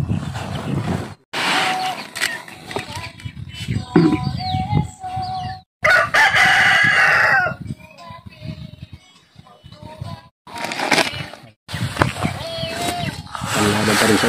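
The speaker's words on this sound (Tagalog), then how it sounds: "Mga manok." Chickens cluck and a rooster crows repeatedly at a farm in Lagonoy, the loud calls recurring over several seconds amid outdoor noise, with a person talking intermittently between them.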